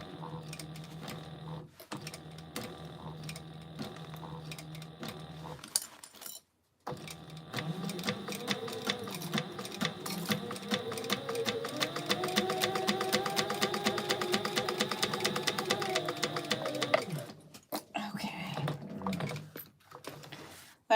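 Sewing machine stitching a backpack gusset in a long steady run of rapid needle clatter with a rising then falling motor whine, preceded by a shorter run and a brief pause, with faint speech here and there.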